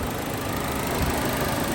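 Chevy 1.4 turbo engine in a Sonic or Cruze idles steadily, a constant low rumble with even vibration, close and moderately loud, no voices over it.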